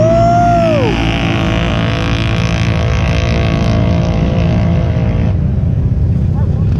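An ATV roars off the line at a night drag race, its engine loud and continuous with a rising rev that drops as it shifts and pulls away, while people cheer and talk over it.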